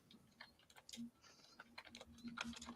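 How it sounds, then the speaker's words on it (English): Someone types on a computer keyboard during an online quiz game, a quick run of small, light key clicks in an irregular rhythm, faint and close, with no one speaking. "You need to stop typing"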